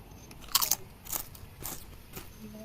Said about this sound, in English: this is the first time I taste Bhutanese food